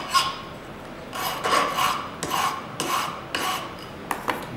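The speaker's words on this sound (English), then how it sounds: "I'm going to file the end flap" A metal file rasping across the end of a short piece of wire in a metalsmithing workshop, a series of about six scraping strokes in an uneven rhythm, close and clear with no talking.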